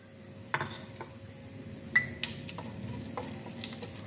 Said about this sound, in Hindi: घर के तमाम खड़े मसालों को हम फ्राई कर लेते हैं ऑयल में।